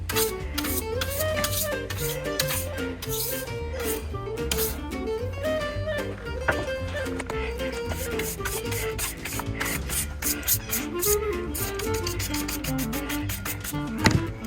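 Wood is sanded with 80-grit paper for a rustic outdoor kitchenette, a continuous loud abrasive scrubbing rasp over a wavering motor-like hum, close up and unbroken, with no talking.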